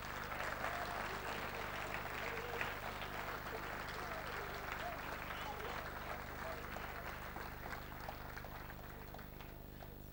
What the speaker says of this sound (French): Je vais demander au pasteur Eli de s'élever, de s'approcher sous vos acclamations.